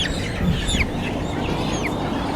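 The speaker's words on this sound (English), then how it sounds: "just the final few chickens remaining at this end" Broiler chickens clucking and chirping inside a shed, several birds calling at moderate distance over a steady low rumble of the house.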